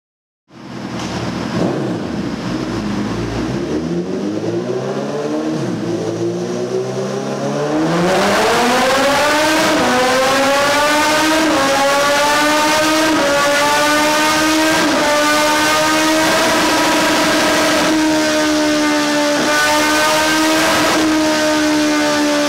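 Suzuki Bandit 1250 motorcycle fitted with a full 4-2-1 Jeskap exhaust, revving loud and close: a rough idle swells into repeated rising revs, then holds a sustained high-rpm roar with steady harmonic whine.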